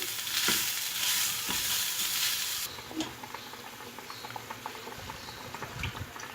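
Water boils steadily in a pot while pulao is being cooked, a soft continuous bubbling and patter with faint scattered pops, no talk over it.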